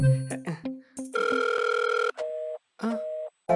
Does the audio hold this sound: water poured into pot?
no